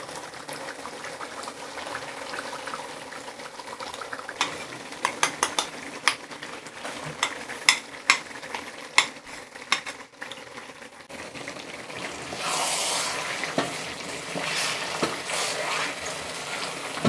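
Sugarcane jaggery is stirred into olive pickle in a pan, with repeated metal spoon scrapes and clinks against the pan over a bubbling, sizzling background, growing louder toward the end.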